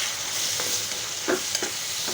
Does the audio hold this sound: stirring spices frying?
yes